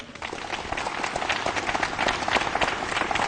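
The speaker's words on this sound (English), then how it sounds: "Give yourself a big hand." An audience at a campus talk show claps together in a dense, sustained burst of applause that swells slightly and carries on throughout.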